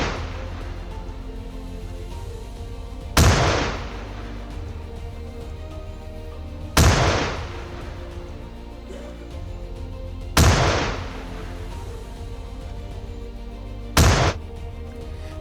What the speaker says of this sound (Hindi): उस वक्त जो धमाके हो रहे थे, वही ये तस्वीर और आवाज आप सुन रहे हैं